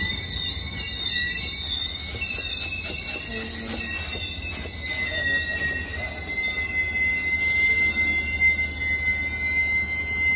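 A Caltrain commuter train arrives at Burlingame Station, California, its wheels squealing in high, sustained metallic screeches over a constant low rumble of rolling rail cars, loud and close throughout.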